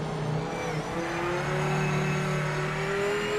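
Race car engine held in third gear at low revs in a racing video game, a steady droning hum rising slightly in pitch, loud and continuous.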